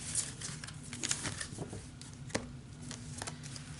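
Energy cards being shuffled and handled up close, a soft continuous patter of riffling card edges with a few sharper slaps, quiet and without talk.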